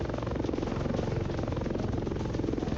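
Steady helicopter rotor and engine roar in the Roblox game War Tycoon, continuous and fairly loud, with a low rhythmic thumping throughout and no talking.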